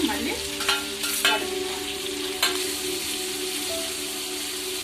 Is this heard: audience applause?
no